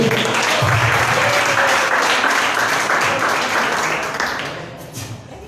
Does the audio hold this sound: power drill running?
no